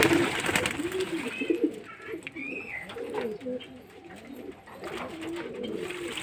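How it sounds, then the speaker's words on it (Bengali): Several pigeons coo close by in soft, rolling throaty calls while bathing together in water, overlapping one another with faint fluttering and rustling underneath. "এই যে এখন চান করছে মাদা পায়রাগুলো সব একসাথেই"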